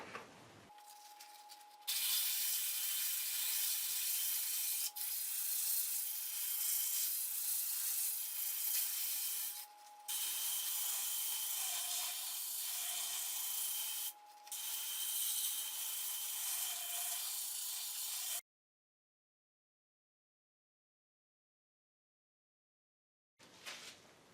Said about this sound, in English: I'm sanding now here, starting with 100 grit, and I'll go down to 400 grit.